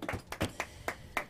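Hands clap in a short, sparse run of about five separate claps, quiet and evenly spaced with no talk.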